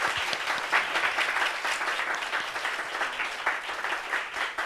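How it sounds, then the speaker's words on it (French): A television studio audience applauds a guest on a talk show, with steady, dense clapping from a crowd sustained at an even level throughout without any voices. "Applaudissements pour elle, s'il vous plaît."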